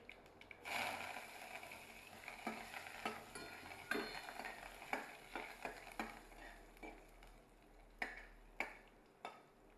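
Asafoetida and curry leaves sizzle in hot tempering oil for a Khandeshi methi dana kadhi, a soft steady fry broken by a spoon clinking and stirring in the pan, with no voices.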